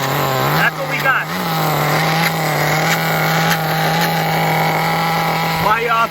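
A Tamiya Terra Crusher nitro RC truck's two-speed engine drones loud and close at a steady high idle, with brief rev surges as the clutch keeps engaging, a few short blips near the start and end.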